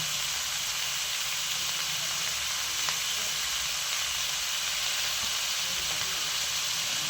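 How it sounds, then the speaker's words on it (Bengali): Steady sizzling of turmeric and chili powder frying in hot oil, a continuous bright hiss with faint crackles and no voices. "এবার সব ভালো করে নাড়িয়ে নেবো মানে কষে নেবো"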